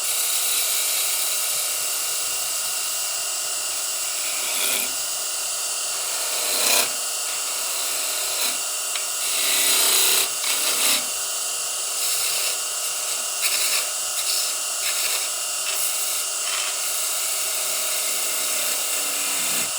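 Light cuts on a small wooden ornament give a steady, close scraping and rasping, with brief pauses and slight surges in intensity, and no voices.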